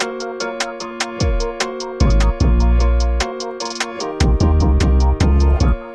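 Synth chords layered with a bright upper melody line over a hip-hop beat, with punchy booming kicks and crisp hi-hat ticks in a steady loop, loud and close with no voices.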